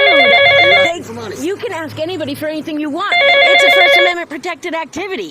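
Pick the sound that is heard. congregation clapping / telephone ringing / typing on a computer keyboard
telephone ringing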